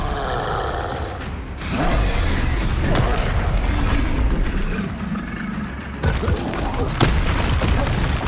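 Spells such as Confringo and Bombarda are cast in the Hogwarts Legacy video game, producing loud, dense booming blasts and rumbling impacts that roll on almost without a break, with a sharp cut and a fresh surge near the end.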